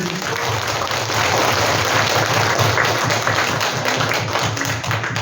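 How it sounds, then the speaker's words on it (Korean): A church congregation claps together during a worship service, a steady, dense wash of many hands filling the room without pause, loud and sustained throughout. "이 은혜 주신 하나님 앞에 박수를"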